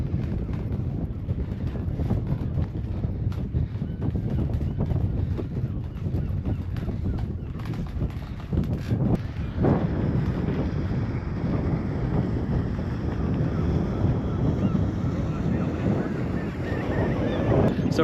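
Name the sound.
strong wind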